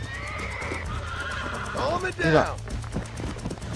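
A horse neighs loudly in the Western video game Red Dead Redemption, a shaky whinny over game ambience and hoofbeats, while someone talks throughout.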